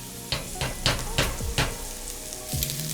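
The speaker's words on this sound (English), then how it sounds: "now I want to add about a tablespoon of tomato paste to fry that up" Tomato paste sizzles and fries in a hot pan, with a spoon scraping and knocking against it several times.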